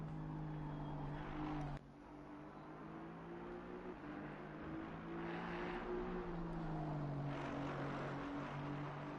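An Aston Martin GT4 race car engine drones at a distance, a steady tonal roar that shifts pitch slightly as the car passes during a circuit race.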